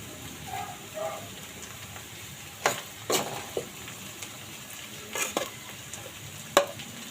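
Beef with cauliflower, butter, onion and garlic being stirred in a pan: a soft steady sizzle with several sharp scraping clinks of a utensil against the pan, no talking.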